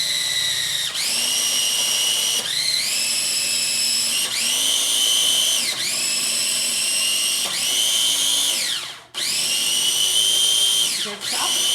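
A food processor grinding and chopping food in short pulses, each a loud, high whirring spin-up that settles and cuts off, repeated several times in close succession, with voices under it.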